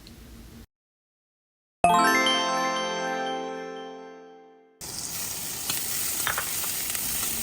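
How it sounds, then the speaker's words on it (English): Sliced green onion, ginger and chili pepper hit hot oil in a pan with a bright metallic clink, then a loud steady sizzle follows, fading and giving way to a broader, louder crackling fry. "Heat a small amount of oil in the pan. Sauté the sliced green onion, ginger, and chili pepper until fragrant."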